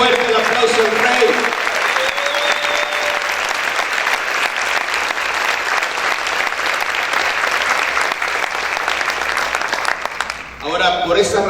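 A church congregation breaks into loud, sustained applause that fills the space, with the dense clapping holding steady for about ten seconds before dropping off abruptly near the end.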